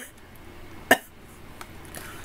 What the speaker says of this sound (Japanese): そんなふざけた顔でさ、咳しないでよ。